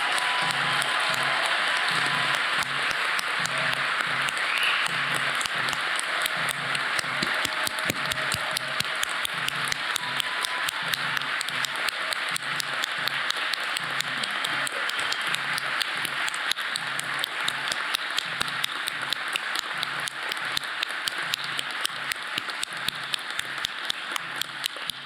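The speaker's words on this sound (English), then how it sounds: "Please join me again in a round of applause for all of the Rites of Passage recipients" An audience applauds at a college transitions ceremony, a dense, steady wash of clapping that carries on for the whole stretch without fading, heard from within the hall.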